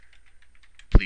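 Quick light keystrokes on a computer keyboard, a short run of soft, evenly spaced clicks ending with a slightly louder tap, close and quiet against a faint hum.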